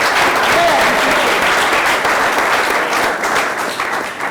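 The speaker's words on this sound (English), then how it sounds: "I don't want clap." Loud, sustained applause from an audience at a charity event fills the whole stretch with dense clapping and no speech.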